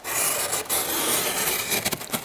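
Knife scoring and cutting metal trim coil on a job site, a continuous scraping, rasping rub with a few sharp clicks near the end, close and moderately loud with no talk.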